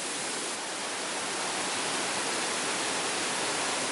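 Bali waterfall heard up close as a loud, steady broadband roar of falling water, unbroken and without voices.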